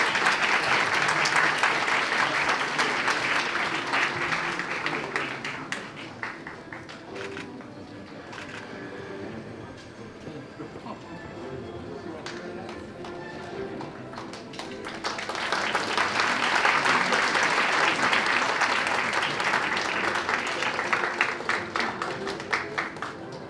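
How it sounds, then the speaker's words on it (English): A crowd applauds a new doctoral graduate at the SolBridge spring 2025 graduation ceremony. A long, dense ovation fades to a softer patter midway, then swells back to full strength. "Let's give him a big round of applause."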